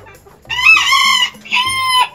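Loud, close clucking calls from a newly hatched chick in two bursts separated by a short pause, with no talking.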